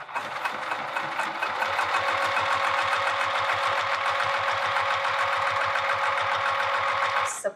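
A sewing machine stitches through layers of vinyl for a handbag, a rapid, even mechanical chatter of needle strokes running steadily for several seconds before stopping.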